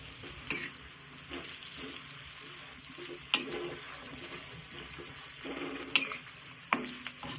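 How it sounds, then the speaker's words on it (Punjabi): Raw turmeric fries in oil, a low steady sizzle in a pan, while a metal ladle stirs it with occasional sharp scrapes and clinks, close up and without speech. "ਇਹਨੂੰ ਆਪਾਂ ਤੜਾਂਗੇ ਬਸ ਕੜਛੀ ਨਾਲ ਹਲਾਈ ਚੱਲ"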